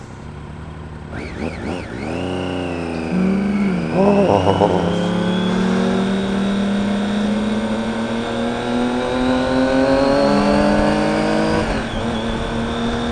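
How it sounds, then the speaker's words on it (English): A car engine revs up and accelerates, its tone climbing and holding in a loud, steady drone, with a brief exclamation from someone nearby. "Good sounding car too."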